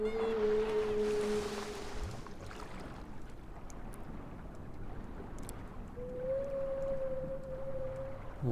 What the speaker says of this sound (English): Got a bunch of whales chilling in the city of Los Santos.